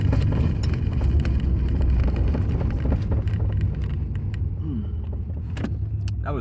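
A car engine driving in third gear and then shifting down to second, a steady low rumble with small changes in pitch and slight rattles, recorded from inside the vehicle at a moderate level.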